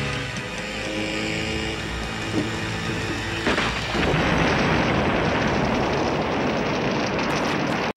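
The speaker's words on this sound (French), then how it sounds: "C'est moi ou Taryn aime me faire exploser des trucs?" A film explosion from the movie Savage Beach erupts midway, shifting from a tonal rumble into a loud, sustained roaring blast of broadband noise that carries on to the end.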